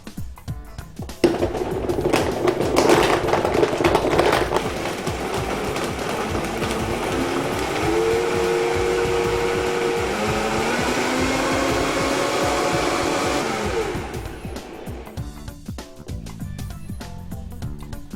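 A blender whizzes a berry coconut smoothie, starting with a loud rough churn, then settling into a steady whirring drone with shifting pitch before it winds down and stops near the end.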